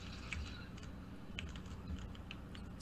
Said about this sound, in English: I can still hear the clicking of that keyboard.